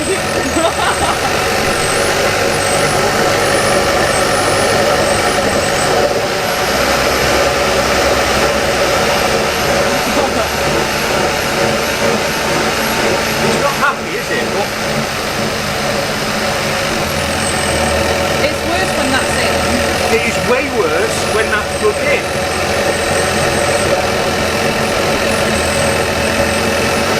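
The engine of a Kia Ceed GT runs steadily while being checked for a misfire, a loud, continuous idle drone with some mechanical whine, with a person talking over it at times.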